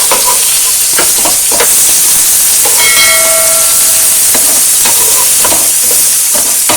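Boiled potatoes frying on low heat in a pan for a potato omelette, giving a steady loud sizzle with a few short scraping clicks as pieces are turned.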